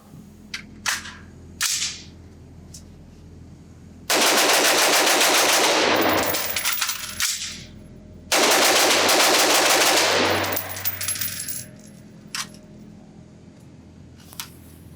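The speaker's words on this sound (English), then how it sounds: "I'll try to shoot as fast as I can and get the gun back in action" Rapid semi-automatic fire from a NEMO Arms Battle Light AR-15 in .223 Wylde at an outdoor range: a few single shots, then two long, loud, dense strings of fast shots separated by a short pause, with metallic handling clicks between.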